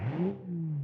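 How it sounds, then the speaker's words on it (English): A Porsche engine in a racing video game revs up, its note climbing quickly then settling into a steady drone before cutting off, close and moderately loud over under a second. "This thing drives like a true Porsche. Very balanced, very beautiful looking. The engine sounds amazing"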